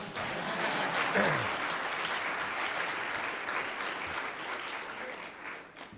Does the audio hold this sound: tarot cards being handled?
no